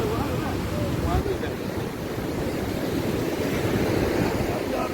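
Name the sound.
sea waves at the seashore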